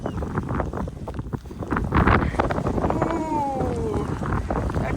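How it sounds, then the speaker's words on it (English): Wind gusts buffet the microphone in loud rumbling bursts on the Faroe Islands in pouring rain, with rain hiss and faint voices mixed underneath. "a gust of wind just picked up"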